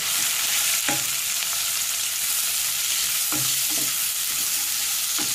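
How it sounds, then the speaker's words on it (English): Two chopped onions sizzle loudly in a pan for a Hyderabadi chicken dish, with a constant hiss broken by a few scraping stirs of a spoon. "So we'll cook this onion till it will become brown."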